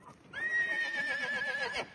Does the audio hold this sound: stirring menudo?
no